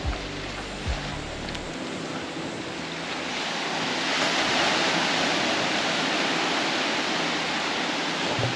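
Sea waves wash onto a beach on the Konkan coast near Nivti, a broad, continuous rushing surf that swells louder midway, mixed with wind buffeting the microphone and no voices.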